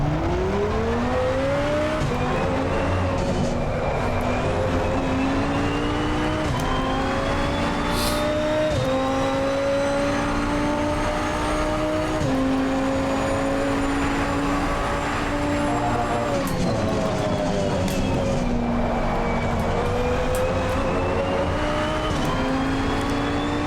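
A KTM X-Bow GT2 laps the Red Bull Ring in the ACC racing game, its engine note loud and constant, climbing through each gear with sharp shift drops and quick downshifts under braking, with no speech.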